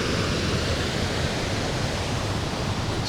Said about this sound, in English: that's only a small weir, but there's quite a bit of water coming over there